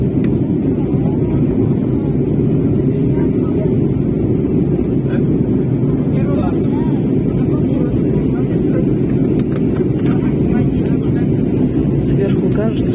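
An airplane cruises in flight, heard from inside the cabin as a loud, steady low engine roar with airflow rush that holds unchanged throughout.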